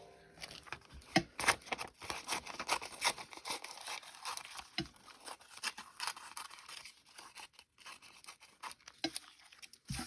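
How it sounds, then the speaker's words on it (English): Scissors roughly cut through a partly dried paper tag with crisp, irregular snips and rustling paper, quiet and close, no talking. "I'm actually just going to cut it roughly."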